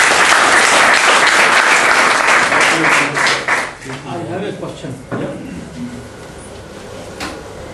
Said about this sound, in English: Can I have a big round of applause to say yes,